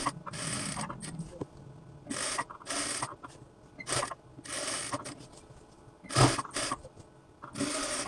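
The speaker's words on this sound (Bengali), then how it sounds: "গলা সেলাইটা আমি মেশিন দিয়ে একবারে দিয়ে দেব" A sewing machine stitching the neckline of a kameez in short bursts, several separate runs of mechanical whirring broken by pauses, close and moderately loud, with no talk.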